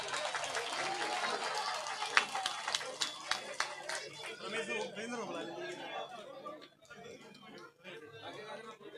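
Crowd applause and scattered clapping at a Haryana election rally, loud and dense at first with sharp individual claps, then thinning into crowd chatter toward the end.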